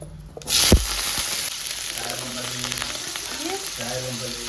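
Potatoes dropped into hot oil, a sharp burst of sizzling that settles into a steady loud frying hiss, with a faint voice and some soft stirring beneath.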